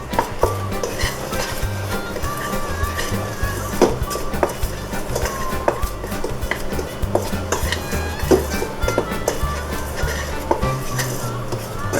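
Biscuit dry ingredients with cream of tartar and baking soda are mixed in a bowl, making a steady, busy scraping and knocking of utensil against bowl that continues for the full twelve seconds, close and even, with no talk.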